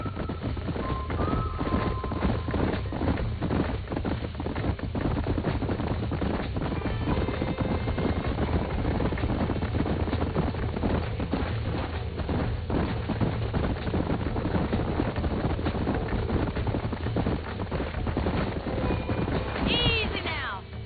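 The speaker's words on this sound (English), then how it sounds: "These are fine horses." Horses in the video game Red Dead Redemption, hooves clip-clopping steadily on a ranch alongside occasional snorts and a whinny, layered over continuous background music and ambient sound.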